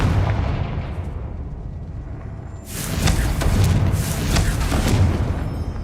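A Confringo fire spell erupts in Hogwarts Legacy as a loud, rumbling blast. Repeated crackling bursts and booms roll on for several seconds over a low steady background.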